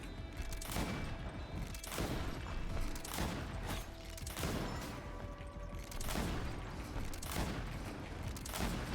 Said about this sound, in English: When in doubt, bullets!